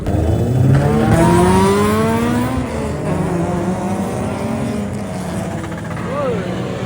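Cars and motorcycles rev and roar past on a busy Kuantan street at night, engines rising and falling in pitch as they accelerate by, loud and continuous with a Doppler sweep near the end.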